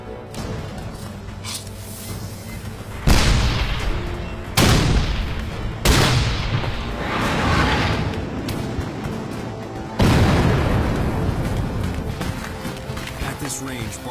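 Cannon blasts firing 12-pound solid iron cannonballs on a battlefield, four heavy booming shots spaced a few seconds apart, each with a long rumbling tail over constant background din, with voices in the mix.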